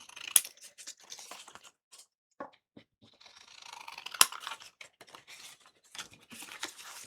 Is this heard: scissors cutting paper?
yes